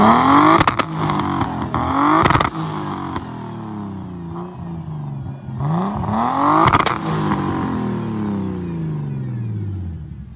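A motorbike engine runs and revs hard close by, with repeated rising and falling throttle sweeps over a steady rough idle, loud throughout with no talk.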